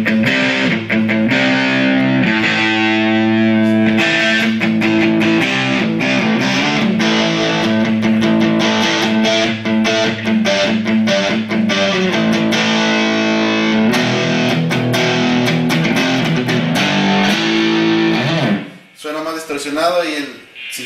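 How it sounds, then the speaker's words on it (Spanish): An electric guitar plays through a Blackstar ID Core 10 amp on its super crunch distortion channel, producing loud, sustained, driven chords and riffs that continue for most of the stretch before breaking off into a short, choppy tail. "y enseguida tiene el canal super crunch, que ya es la distorsión pues ya"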